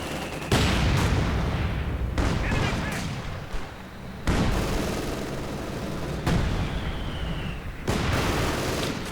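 Heavy weapons fire in Company of Heroes 2, loud repeated booming blasts and gunfire bursts about every two seconds, each decaying into a rumbling tail, with no talk over it.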